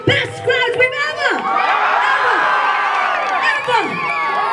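A concert crowd in Itahari, Purwanchal cheers and whoops loudly and continuously while a performer's amplified voice speaks over the noise.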